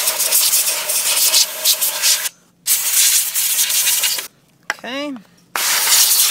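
Compressed air blasting dust out of an audio amplifier's cooling fan, loud steady hissing bursts broken by short pauses, with a fan spinning down whirring in one gap and a brief spoken word.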